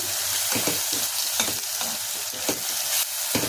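Ground masala paste sizzles and crackles steadily in hot oil for a hotel-style mushroom biryani, with periodic scraping stir strokes through the pan and no voices.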